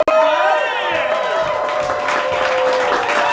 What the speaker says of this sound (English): And keep clapping and applauding